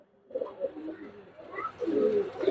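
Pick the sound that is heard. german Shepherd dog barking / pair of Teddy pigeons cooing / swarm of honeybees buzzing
pair of Teddy pigeons cooing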